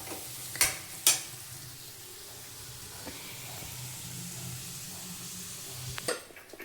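Cabbage cooks with onions and tomatoes in a pan, giving a soft, steady sizzle and hiss punctuated by two sharp clatters of a spoon early on and another near the end.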